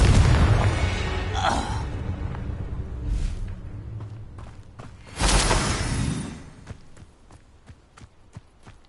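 Confringo fire spell explosions in Hogwarts Legacy combat, a heavy boom opening then a second loud blast midway, followed by scattered sharp clicks and impacts fading down, with faint voice in the mix.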